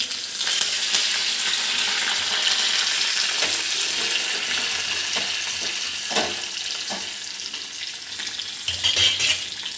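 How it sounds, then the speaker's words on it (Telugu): Cumin seeds, garlic and curry leaves fry in hot oil for Telugu kothimeera pachadi, giving a steady close sizzle with the occasional stir and scrape of a spoon, and no talk. "కొంచెం జీలకర్ర వేసుకున్నాను. అలాగే ఎల్లుల్లిపాయలు, కొంచెం కరివేపాకు"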